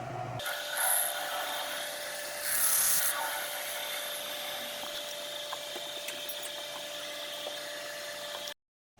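Steady high whine of a lathe running as a drill bores a hole into metal for tapping, with brief louder grinding bursts, ending abruptly.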